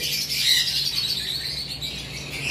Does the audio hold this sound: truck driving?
no